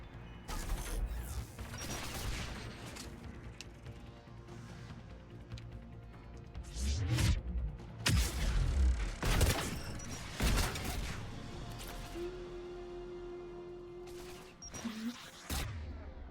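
Mass Effect 3 battle on Rannoch: bursts of gunfire and heavy booming blasts, including rocket launcher fire, hit loud and irregular over a rumbling background, with a sustained whining tone near the end.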